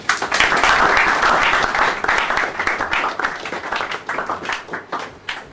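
Dense, sustained applause from a church gathering welcoming Pastor Odame Kento to speak, loud and full at first, then thinning into scattered claps toward the end.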